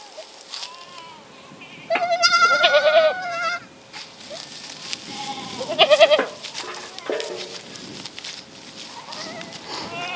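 Kiko goats on a homestead bleat in several loud, wavering calls, the first two close together and later ones shorter, with quieter rustling and faint insect buzz between them.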